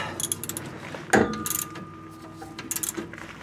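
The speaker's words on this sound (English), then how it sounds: "That little ratchet, ratchet, is a beast." A small ratchet wrench snugs bolts on a rebuilt Ford 8-inch differential in a Mustang, giving short bursts of close metallic clicking and rattling with brief pauses between them.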